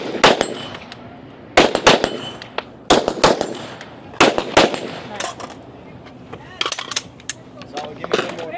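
Rifle shots crack at a shooting range during a women's elite regional fitness race stage, heard as loud, sharp reports in irregular bursts with short pauses between them. Faint voices sit in the background.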